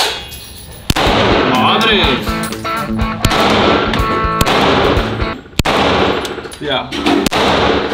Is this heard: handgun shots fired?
yes